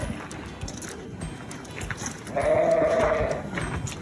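Pigs in a farrowing barn on a pig farm, with a loud, strained squeal rising for about a second midway over low shuffling barn noise.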